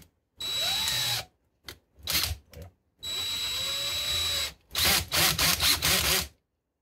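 A power drill bores into a piece of wood in an old work garage, whining in a few long runs broken by short stops, then a quick string of stuttering pulses, close and fairly loud.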